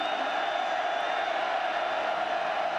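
Steady roar of a stadium crowd at a USC at Oregon college football game on third down, dense and continuous with no clear breaks.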